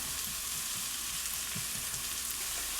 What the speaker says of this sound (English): I'm going to saute this until the onion looks translucent